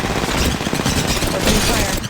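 Dense, continuous gunfire in the battle game Apex Legends, a steady barrage of shots with booming low end throughout, close and loud, with a game voice faintly under it.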